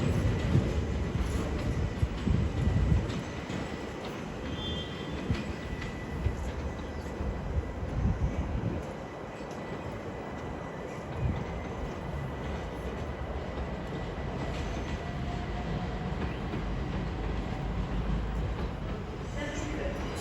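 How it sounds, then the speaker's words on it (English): London Overground Class 378 electric train at Stratford station, heard as a steady rumbling and rolling under muffled station announcements, with no clear approach or departure. "Leyton away now will be a London Overground service from Richmond."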